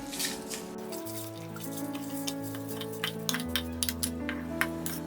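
Washed basmati rice is poured into a pot of boiling water while making vegetable tahari, giving light watery drips and scattered clinks over steady background tones.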